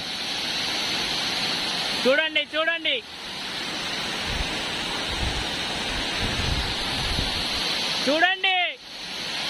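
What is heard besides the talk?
Pittala Dora waterfall near Visakhapatnam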